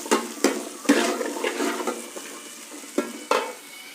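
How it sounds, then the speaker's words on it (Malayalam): Small onions fry in coconut oil with a steady sizzle, while a utensil scrapes and clacks against the pan in irregular strokes. "ഇനി ചെറിയ ഉള്ളി വെളിച്ചെണ്ണയിൽ നന്നായിട്ടൊന്ന് മൂത്ത് വരണം"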